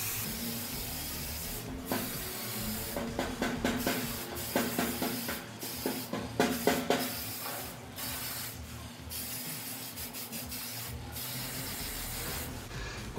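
Charmin strong-hold hairspray hisses over a man's styled hair in a series of short aerosol bursts, some quick and clustered, others longer, close and fairly soft.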